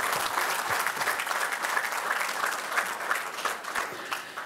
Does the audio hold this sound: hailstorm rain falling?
no